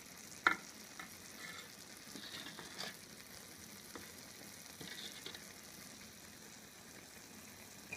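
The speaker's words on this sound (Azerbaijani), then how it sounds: "Artıq qaynarıb düşür." Strawberry jam with melted sugar simmers and foams in a pan, a faint low bubbling hiss with a few scattered pops and clicks and no voices.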